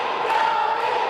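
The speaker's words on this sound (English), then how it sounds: "Listen to this Morristown crowd here, Dan. They're coming alive for Toby here." An indoor wrestling crowd in Morristown roars and cheers, a sustained loud wash of voices with shouting rising briefly during a match.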